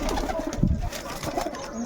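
Pigeons perched nearby give a brief, low cooing murmur close by, mixed with soft ambient noise.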